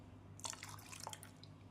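Water poured into a mixer jar of ground kodo millet batter, a brief cluster of splashing and dripping trickles, close and fairly faint, over a steady low hum.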